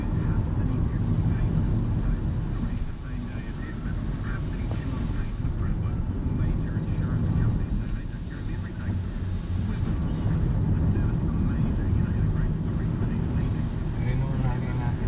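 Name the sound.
strong wind blowing in New Zealand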